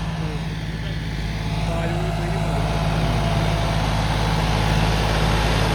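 A John Deere 5055 tractor with an inline fuel pump runs steadily in the field, a constant low diesel drone holding even for several seconds with faint background noise.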